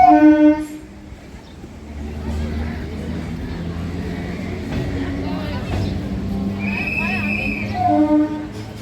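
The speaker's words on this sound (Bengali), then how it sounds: "এই ট্রেনটা চলে যাওয়ার পর রাস্তাটা ক্রস হয়ে" A train rumbles past Baghbazar station nearby with a low steady roar, a horn sounding briefly near the end, while a person talks over it.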